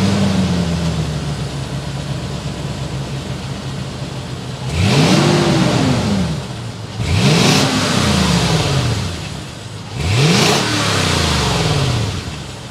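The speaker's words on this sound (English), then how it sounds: "start it up so you can hear that exhaust note" A 2023 Lexus GX 460's V8 engine revs three times, each rising roar of exhaust dropping back to a deep, burbling idle, loud and close.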